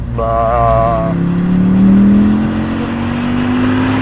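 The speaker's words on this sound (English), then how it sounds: "The exhaust system is actually made by the same company who made the exhaust for the original prototype" Exhaust of a replica Volvo prototype car, heard from inside the cabin: a loud, steady engine drone that rises smoothly in pitch as the car accelerates, with a brief harmonic whine near the start.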